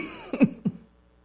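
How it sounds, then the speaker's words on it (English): A man clears his throat in two quick, close, rough bursts, then quiet. "sorry, to clear my throat."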